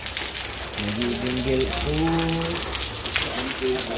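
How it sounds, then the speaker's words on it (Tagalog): Heavy rain pattering hard on a surface, constant and close, while someone talks over the downpour. "Malakas po ng ulan"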